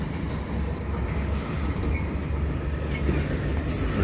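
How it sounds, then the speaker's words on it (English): Small Hunslet locomotive and its train rolling slowly on a narrow-gauge Welsh railway, a steady rumble of wheels on rails with faint squeals and clicks, moderately near and continuous, with no voices. "The train being put away."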